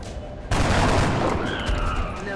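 Video game gunfire in XCOM breaks out suddenly into a dense, sustained volley of shots that rolls on loudly to the end.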